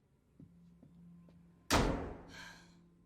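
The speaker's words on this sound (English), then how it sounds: "slamming doors helps as well" A door slams shut once with a sharp, loud, close impact that rings and decays, preceded by a few faint knocks in a quiet indoor room.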